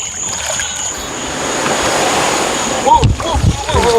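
Cold water rushes and splashes around a kayak in a steady broadband wash, with brief sharper splashes near the end and people talking over it.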